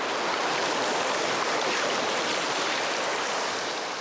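River water flowing through the Gorges du Verdon, a constant broadband rushing with no pauses or voices, steady and fairly loud throughout.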